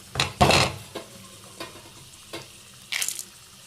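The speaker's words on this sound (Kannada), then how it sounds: "ಇರೋ ಮಸಾಲೆ ಎಲ್ಲ ಇವಾಗ ಏನೇನು ಇಟ್ಕೊಂಡಿದೆ ಅದನ್ನೆಲ್ಲ ಹಾಕ್ಕೊಂಡು ಲೈಟಾಗಿ ಫ್ರೈ ಮಾಡ್ಕೊಳ್ಳೋಣ." Spices lightly frying and being stirred in a pan for chana dal chutney, a few short scraping stir strokes and brief sizzling bursts, close and fairly quiet, with no talking.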